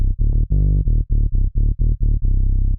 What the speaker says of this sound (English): I'm going to use this deep bass preset that I normally use for hip hop stuff